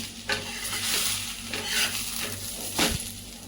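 Pesarattu cooks in ghee or oil on a pan, giving a steady sizzle with a low hum beneath and several louder scraping bursts as it is stirred or turned.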